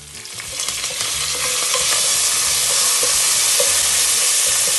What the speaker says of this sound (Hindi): इसमें आप राई डाल लें, इसको थोड़ी देर चलाएं। इसमें थोड़े से कड़ी पत्ता डाल के